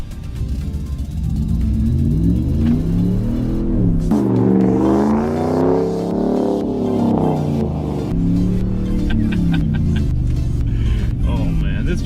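A 2019 Ram Rebel pickup pulls away and accelerates, its engine rumbling loud and steady with rising, falling revs under a voice.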